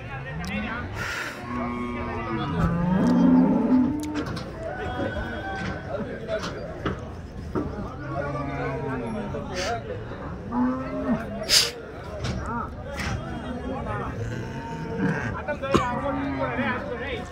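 Punganur cows lowing repeatedly at a busy cattle market, with several loud moos near and far over a constant hubbub of crowd chatter.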